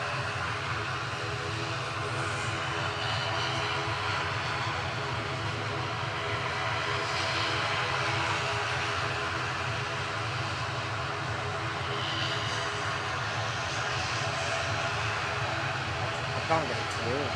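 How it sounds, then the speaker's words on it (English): A Lufthansa airliner arriving at Manchester Airport from Munich, its steady, distant jet engine roar persisting throughout beneath a person talking. "the Lufthansa arrive in the background from Munich"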